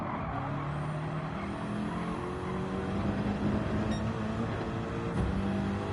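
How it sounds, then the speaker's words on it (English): A race car engine in Gran Turismo 7 holds high revs in third gear, a loud, steady droning roar with slowly rising pitch and tire noise, no voices. "I can't believe he revs out third gear quite so much in this car."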